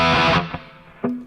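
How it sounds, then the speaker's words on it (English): Electric guitar through a MOOER GE200 with its reverb preset, a big-room setting: a sustained distorted chord decays into a long reverb tail before a second note is struck, loud and alone. "And the sound with the reverb on, it's this one."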